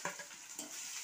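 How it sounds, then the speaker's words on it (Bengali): Ground spice paste fries in a pan after onion, garlic and chilli, with a soft sizzle and quick stirring scrapes, quiet and brief. "বাটা মশলাটা দিয়ে কিছুক্ষণ আবার কষিয়ে নেব মশলাটা"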